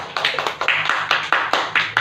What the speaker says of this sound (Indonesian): Beri tepuk tangan dulu untuk Bu Kornia, Bapak Ibu semua.